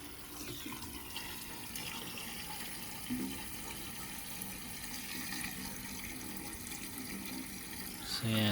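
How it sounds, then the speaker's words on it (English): A garden hose pours water into a solar shower bag with a steady rushing, splashing hiss that continues throughout, ending in a louder gush. "Fills up pretty fast with the hose."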